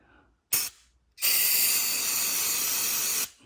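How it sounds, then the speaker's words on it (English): Throttle body cleaner hisses from an aerosol can onto a new rag while cleaning the throttle body of a 2007 Lexus LS460: one short burst, a pause, then a long steady spray of about two seconds, close and loud. "spray it directly on a new rag"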